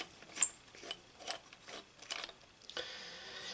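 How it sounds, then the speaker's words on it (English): Ratchet wrench loosening the 10 mm main bowl nut on a Honda clone carburetor, quiet close clicking bursts in short irregular strokes, ending in a longer run of rapid clicks. "We're going to take the main bowl nut off, which is a 10 millimeter."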